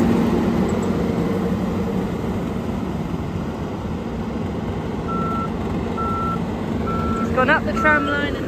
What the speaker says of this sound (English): Here's Mike reversing the trailer.